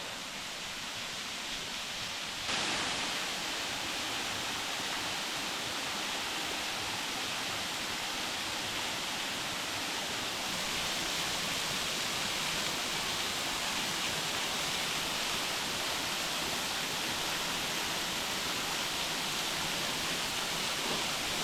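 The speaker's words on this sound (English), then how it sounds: "Alright, Lower Haley Falls." Lower Haley Falls on Whitaker Creek in the Upper Buffalo Wilderness pours in a steady, loud broadband roar, continuous and unbroken throughout with no voices.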